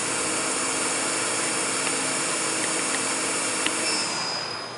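A Fadal 6030 vertical machining center spindle runs as it changes gears, giving a loud steady mechanical whine with faint ticks and a brief rising tone before the sound starts to wind down, with no voices.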